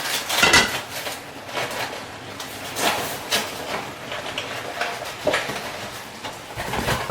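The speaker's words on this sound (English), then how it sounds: "And then we're just going to stir that in." Sauce being stirred in a pan during home meal prep, with repeated scraping and clattering strokes of a utensil against the pan at an uneven rhythm, close and fairly loud.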